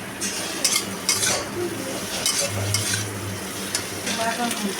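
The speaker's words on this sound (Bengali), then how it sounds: "এবার ভালো করে মশলার সঙ্গে আলুটাকে ভালো করে কষিয়ে নিচ্ছি।" Potatoes being stir-fried with spices in a pan for a vegetarian fig curry, with steady sizzling and frying broken by repeated scraping strokes of a spatula, close and fairly loud, with no talking.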